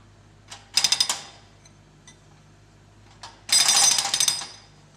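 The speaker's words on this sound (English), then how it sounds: "In the digger cabin, a man controls the digger arm and breaker." A hydraulic breaker on a digger arm hammers and breaks up a pavement. Two short bursts of loud, rapid pounding are separated by a quiet gap, with no talk.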